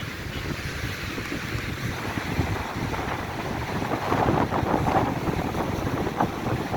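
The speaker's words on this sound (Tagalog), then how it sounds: "Lakas ng hangin dito." Steady wind roaring across the microphone with a constant broadband rush, mixed with lapping water and a low motor hum, growing slightly louder toward the end.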